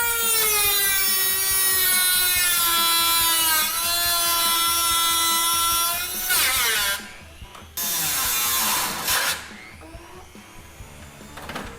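A power tool cuts out the damaged rear spar of a crashed plane's wing, a loud high whine with falling pitch for about six seconds, then stopping and restarting in short bursts with clattering cuts between.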